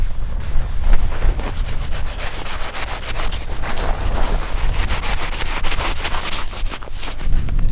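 The saw on the back of an old machete cutting through a snow crust, loud rapid scraping strokes in an uneven back-and-forth rhythm, close to the microphone with no voices.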